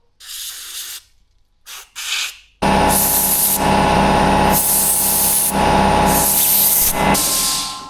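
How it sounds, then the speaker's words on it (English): Compressed air blows through a disassembled carburetor in a repair workshop: a few short hissing puffs, then a long, loud, close, continuous rushing blast whose intensity pulses over several seconds, with no talking. "we have our carburetor all tore apart here. Just a matter of blowing it out."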